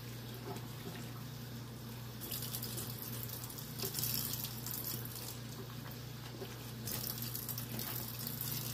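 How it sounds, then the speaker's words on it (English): Tap water runs steadily into a bowl of dumpling batter, a continuous close splashing stream with a low hum underneath and no voices. "Just add water to it"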